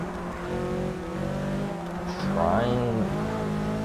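A touring car engine revs hard in the Forza 6 racing game at Brands Hatch Indy, a continuous loud drone that climbs in pitch, with a faint squeal near the end.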